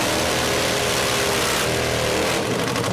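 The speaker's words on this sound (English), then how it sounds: "Bill Furr with a 60-degree Furr-built V-twin coming your way on the Mag Tools lane" Loud, steady roar of a nitro drag racing motorcycle with a 183-cubic-inch 60-degree Furr-built V-twin, close and continuous with a slight shift in pitch near the end.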